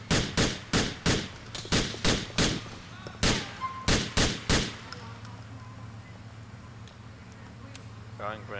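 Gunfire rings out in a GTA IV police chase, a rapid series of loud, evenly spaced shots that stops midway, leaving engine and traffic noise with faint radio chatter beneath.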